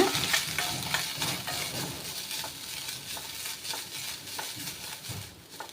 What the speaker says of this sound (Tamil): இதே நெய்யில் தேங்காய் எடுத்துக்கோங்க தேங்காவை ஃப்ரை பண்ணிக்கோங்க